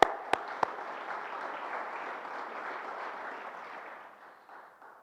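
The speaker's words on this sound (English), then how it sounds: "let's give her a round of applause anyway" Audience applauding at an awards presentation, steady clapping from a crowd with a few sharp close claps at the start, holding for several seconds and then gently tapering off.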